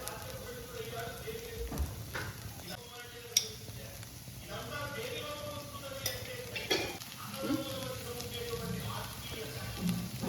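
Vegetables sizzle and fry in a pan for a home-cooked drumstick-leaf powder rice dish, with steady frying noise, scraping stirs and occasional clinks close by, under a faint background voice.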